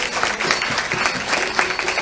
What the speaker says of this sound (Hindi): इसलिए आप इनके लिए भी ताली बजाओ।